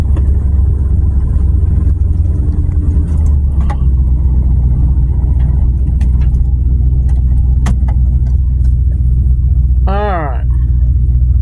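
A farm truck's engine rumbles low and steady while downshifting, with a shift in tone partway through and a brief voice near the end.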